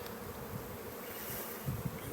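Honey bees buzz steadily around an open hive during an inspection in Colorado, a dense, continuous hum that stays fairly faint with no one talking.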